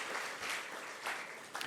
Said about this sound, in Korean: 우리 박수로 축하하겠습니다.